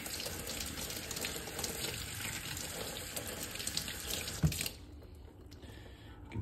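Tap water runs steadily into a sink while soapy eyeglasses are rinsed off. The stream is quiet and hissing, then drops away sharply near the end, leaving faint drips and handling sounds.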